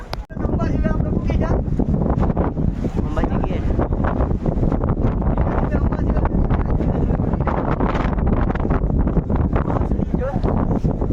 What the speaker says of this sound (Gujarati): પવન એક નંબર આવે કાંઈ ઘટે નહીં એવો પવન આવે